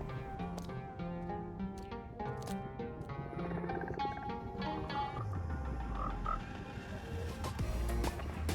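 Frogs croak repeatedly in Minecraft, a dense chorus of deep, rhythmic croaks overlapping one another alongside game ambience, steady and fairly close with no talking.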